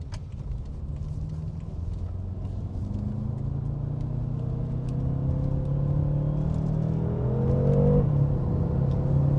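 A BMW F10 M5 Competition's engine pulls hard under acceleration, a deep continuous rumble whose pitch climbs steadily and grows louder, briefly dipping at a gear change before rising again, with no talking over it.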